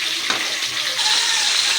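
Papaya and tilapia simmering in coconut milk, with a steady bubbling hiss and soft scraping of a spoon as the pot is stirred up close.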